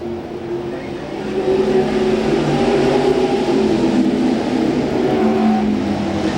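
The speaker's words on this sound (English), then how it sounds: "Bob Strauss pulls the number 11 car right out in the front spot again" IMCA modified race cars roar around Lakeport Speedway during a 1996 main event, a loud sustained engine drone that swells and holds as the pack runs past, with no voices.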